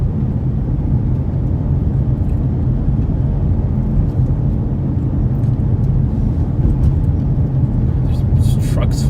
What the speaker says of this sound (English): There's trucks flying through this thing